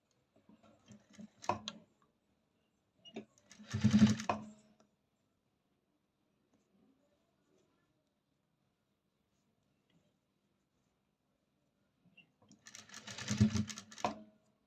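Short bursts of a home sewing machine stitching a row of fabric flowers onto a blouse, three separate runs of quick mechanical chatter with near silence between them.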